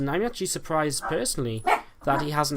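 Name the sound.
dogs barking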